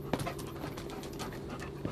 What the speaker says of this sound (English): The dog was in fact our first domesticated animal.